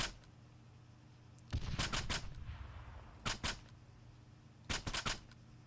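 Gunfire aimed at a machine gunner in the video game Arma 3, a few short, sharp bursts of two or three shots each, separated by quiet gaps.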